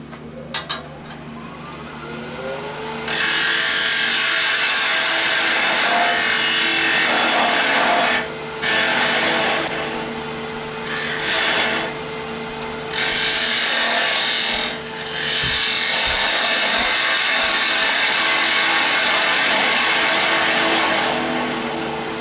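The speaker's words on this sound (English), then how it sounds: "So I will use the diamond tip parting tool to remove that little piece at the end." Diamond tip parting tool cutting into yew on a spinning wood lathe, a small hollow form being turned: loud, steady scraping hiss of the cut in several long passes with brief pauses, over the constant hum of the lathe.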